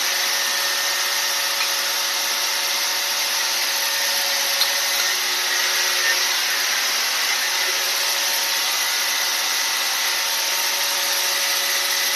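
A new grinder filing the ring gap on a 5.3 LS piston ring, a continuous high-pitched whine and grinding hiss held steady and close throughout, with no talk.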